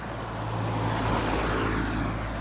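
Traffic on a nearby main highway makes a steady, continuous roar of passing vehicles at moderate level, with no clear breaks.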